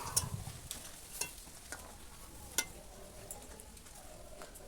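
Boiled green bananas being stirred in a wok, quiet scraping and occasional sharp clicks of a utensil against the pan over a soft background hiss.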